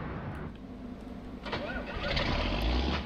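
An old John Deere 4440 tractor engine cranking and catching in Farming Simulator, a low rumbling turnover that swells into a steady running growl, with a voice speaking over it.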